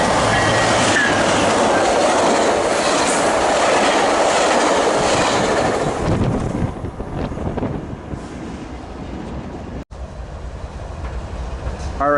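Passenger train 1664, bound for Oceanside, rolls past close by at Commerce with a loud, continuous rumble and clickety-clack of wheels that fades over the last few seconds, with some wind buffeting the microphone.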